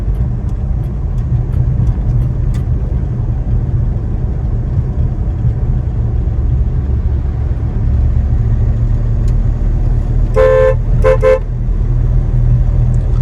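A car driving in city traffic in Bhopal during a driving lesson, with a steady loud engine and road rumble, faint clicks early on, and two short horn honks near the end.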